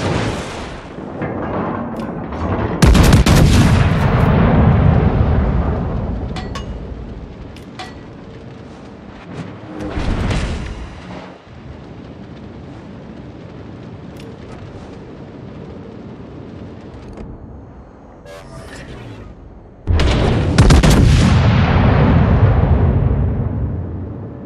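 Warship guns from the battleship Ohio in World of Warships fire three heavy, booming salvos, several seconds apart. Each blast is loud and close, with a long rumbling decay that fades into low ambient noise before the next shot.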